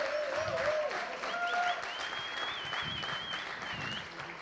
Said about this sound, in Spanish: Un fuerte aplauso para él.